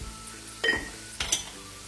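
Sliced onion sautés in a pan with turmeric and salt, stirred in two quick scrapes with soft clinks of a spoon over a faint, steady sizzle.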